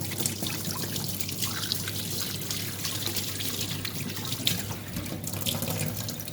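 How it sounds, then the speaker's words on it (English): Tap water runs steadily into a kitchen sink while hands are washed, a continuous close splashing trickle with small drips and no voices. "I'll just wash my hands."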